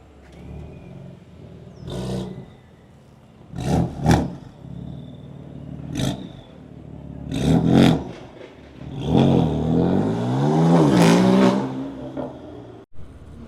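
Cars drive past and rev their engines in the backstage area before a drag racing event, with sharp bursts of engine noise and a longer rising and falling rev near the end, fairly close, with no talking.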